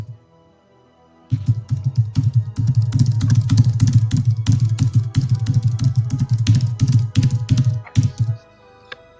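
Rapid, steady typing on a computer keyboard, keys clicking in a fast continuous rhythm for several seconds, close up, with no talking.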